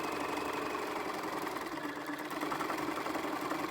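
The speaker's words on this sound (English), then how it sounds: "I'm going to stitch that down right along the edge" A sewing machine stitches along the folded fabric edge of a homemade face mask, a steady close whirring hum with a fast mechanical needle patter running unbroken throughout.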